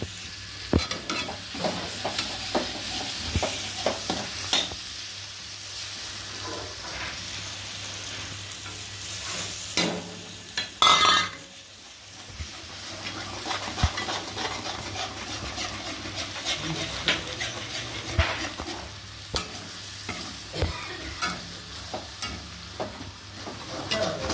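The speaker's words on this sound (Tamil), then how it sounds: "3 முட்டை வந்து நான் உடச்சி வச்சுருக்கேன். இதை எடுத்து அதில் ஊற்றிக்கலாம்." Three beaten eggs go into a hot pan for a spicy noodle dish, bringing a steady close sizzle and frying crackle with repeated stirring scrapes, one sharper clatter midway, and no talking.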